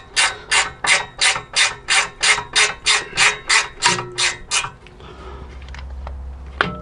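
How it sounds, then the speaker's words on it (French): A ratchet wrench on the caliper bracket of a Chevrolet Captiva during rear disc and pad replacement, about a dozen evenly spaced rapid clicking bursts up close, then a quiet hum and a final knock. "De l'autre côté, on peut utiliser la clé à cliquer."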